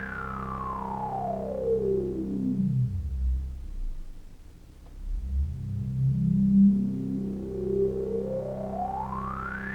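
Korg Minilogue synthesizer with its filter resonance turned up gives a hollow, whistling sweep that glides downward to a low rumble, then rises again, a continuous spacey resonant tone, close and steady.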